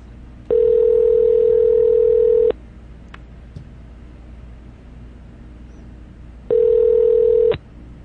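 A telephone handset tone sounds twice as a steady beep-like tone on a call line, one long burst of about two seconds, a pause, then a second burst of about a second, with quiet line hiss between.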